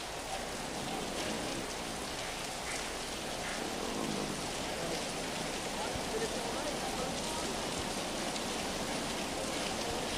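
Heavy, continuous rain pours steadily during flooding at the Bugaan Spillway in Laurel, Batangas, a dense, even hiss holding at constant loudness throughout.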